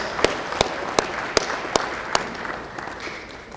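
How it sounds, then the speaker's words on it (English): Applause at an awards breakfast event for a sponsor and a guest, a few sharp distinct claps at a steady pace over a light bed of scattered clapping that fades. "Round of applause for Stelco and Mr."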